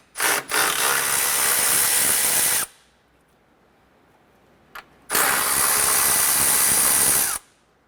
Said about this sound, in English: Use a 10mm socket and remove the two bolts on the top.